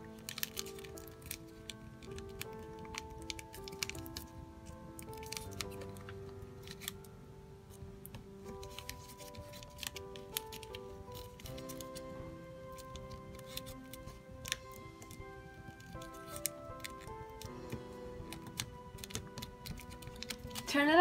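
Origami paper for a jumping frog is folded and creased by hand, making faint, crisp crinkles and soft taps in irregular bursts close to the microphone.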